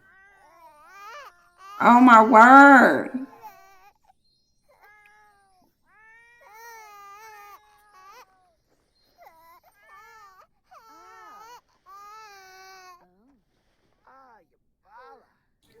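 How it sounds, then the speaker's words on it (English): A cat in The Sims 4 meowing near a sleeping baby: one loud, drawn-out wailing yowl, then a string of softer, shorter meows and chirps scattered over several seconds, with a brief spoken exclamation in between. "And now the cat's making all the noise."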